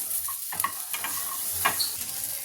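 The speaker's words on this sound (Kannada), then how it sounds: "ಈರುಳ್ಳಿ ಮತ್ತು ಟೊಮೊಟೊ ಹಾಕ್ಬಿಡೋಣ ನೋಡಿ ಇವನು ಒಂದೇ ಸ್ಪೂನ್ ಎಣ್ಣೆ ಹಾಕಿ ಹುರ್ಕೊಂಡ್ಬಿಡೋಣ ಇವನ್ನ" Onion and tomato fry in a spoonful of oil for holige saaru, giving a close, steady sizzle with several quick scraping stirs and light clicks of a spoon against the pan.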